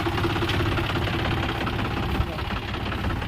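A tractor loaded with crop residue chaff on a farm, its diesel engine chugging and knocking in a steady loud rumble with rattling vibration, close by.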